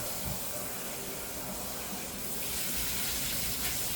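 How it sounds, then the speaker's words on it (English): Cold tap water runs steadily into a sink over freshly drained pasta for a lasagna, a continuous splashing gush that brightens and grows slightly louder near the end; no speech. "I'm cooling off the pasta with cold water."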